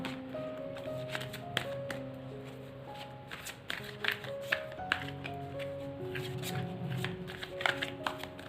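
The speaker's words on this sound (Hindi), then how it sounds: "मैं कार्ड्स को शफल कर लूँ।" Tarot cards are shuffled by hand in a steady run of soft riffling and tapping that goes on for several seconds, close and quiet, with faint background tones.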